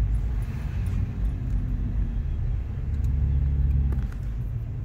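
A BMW engine with its exhaust cutout valve open revs in a deep, throaty rumble that holds steady and swells slightly near the end, heard close with no talk.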